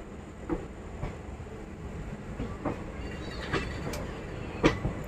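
A train rumbles steadily along the track near Dudhsagar in Goa with faint rhythmic clacks and occasional metallic squeals, no talking.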